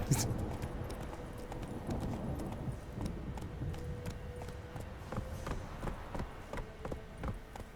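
Hoofbeats of Roach, Geralt's horse, clop steadily in Witcher 3, a continuous trotting patter over a busy mix of game ambience and scattered clicks, moderately close throughout.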